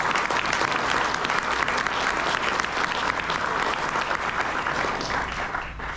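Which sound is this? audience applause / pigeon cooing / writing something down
audience applause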